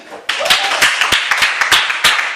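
A church congregation claps and applauds together, a lively, fairly close burst of irregular hand claps with sharp overlapping slaps that runs steadily for a couple of seconds with no clear talking on top.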